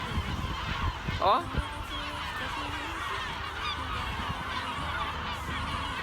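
Geese honk at a morning anchorage at Gallipoli: a close, loud burst of honking stands out over a steady wash of water and wind, and a voice is briefly heard.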